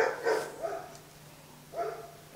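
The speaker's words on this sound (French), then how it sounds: "c'est parti pour le festival des chiens" Dogs barking in a recording played back indoors, several short bursts of yips and barks separated by pauses, moderately loud, no speech over them.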